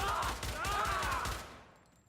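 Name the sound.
gunfire in the video game Syndicate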